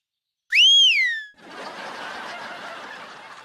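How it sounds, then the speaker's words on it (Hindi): A woman gives one clear, loud whistle that rises and then falls, followed by a soft breathy, rustling noise. "रुको रुको, देखो ऐसे मारते सीटी"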